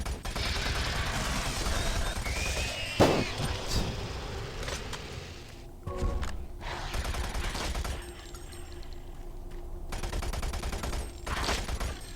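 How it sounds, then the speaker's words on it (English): Gunfire and bullet impacts in Doom 3 BFG on PS3, continuous rapid shooting with sharp hits and bursts, fairly loud throughout with brief lulls. "That gun impact effect is ridiculous"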